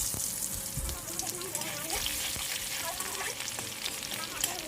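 Onion sizzles and fries in hot oil with occasional stirring, a steady, close crackle for a hilsa mustard curry, with a voice talking faintly underneath.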